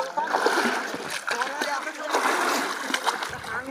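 Water splashes and sloshes in a pond as a person ducks and dives under the surface repeatedly, with irregular bursts close to the microphone and a voice speaking over the splashing.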